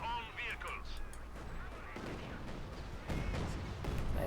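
Company of Heroes 2 battle with field gun and artillery fire booming in irregular blasts over a steady rumbling battlefield din, moderately loud, while someone talks over it.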